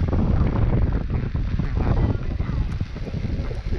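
Wind on a ski chairlift at Echigo-Yuzawa, roaring in steady, loud, rough gusts that buffet the microphone continuously throughout.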